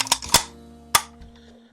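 A Remington 30-06 Model 4 rifle mechanism is dry fired on a workbench, giving a few sharp metallic clicks and snaps close by, with a quieter rattle afterward.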